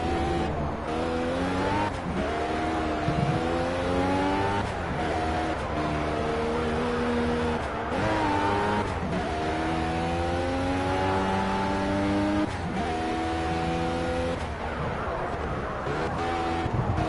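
Race car engine in the racing video game Project CARS, revving up and down through gear changes in a steady, loud, continuous drone that lasts throughout, with pitch sweeping upward repeatedly as the car accelerates.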